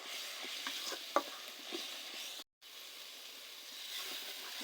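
Ground spice paste of coriander, cumin, shahi jeera, clove, cardamom and cinnamon stir-fried in oil with bay leaves, giving a faint soft sizzle broken by light scraping stirs and a brief full silence partway through.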